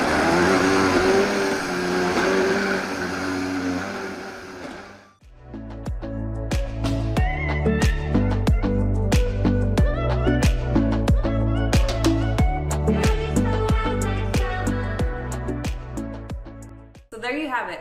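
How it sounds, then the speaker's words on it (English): A high-powered blender whirs loudly for about five seconds while blending a vegan green protein smoothie, then cuts off and music takes over. "So let's get blending."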